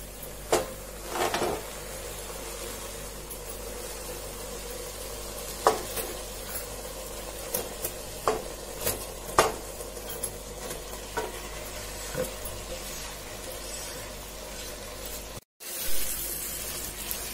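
Chicken tikka fries in a yogurt masala, with a low continuous sizzle and repeated scraping stirs from a spoon against the pan, close and fairly quiet, broken by a brief silent cut near the end; no one speaks.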